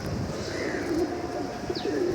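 Pigeons at a rooftop sky loft on a late-summer afternoon, males just released, giving soft low cooing calls in steady ambient background with a faint higher bird note, no talk.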